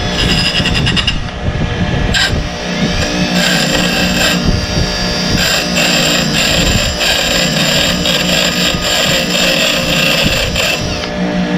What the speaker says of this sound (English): Now you can spin it with your drill at a slow speed.